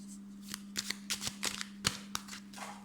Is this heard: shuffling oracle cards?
yes